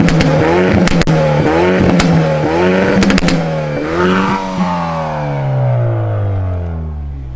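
A loud, close Hyundai i30 Fastback N engine revs hard repeatedly with crackling backfire pops, then its pitch winds down in a long falling drone.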